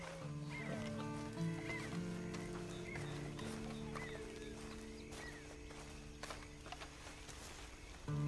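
Horse hooves clip-clopping in the video game Red Dead Redemption 2, a steady rhythmic plodding over a sustained musical drone and ambient game sound, with occasional sharper knocks.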